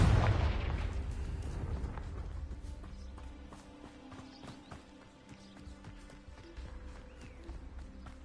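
A Confringo spell blast in Hogwarts Legacy on PS5 opens with a loud, booming burst that rolls into a fading rumble. Scattered crackles and thuds follow in the game's background, with a brief spoken word near the start.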